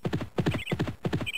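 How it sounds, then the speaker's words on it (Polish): Horse hooves trotting across a meadow: quick clip-clop beats in repeated groups of four, close and crisp, with a short high chirp between the groups. "Koń Rafał hasał jak co dzień po łące."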